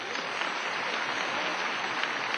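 Audience applause for faculty and staff at a university commencement ceremony, a steady, dense wash of many hands clapping throughout, moderately distant and even in level.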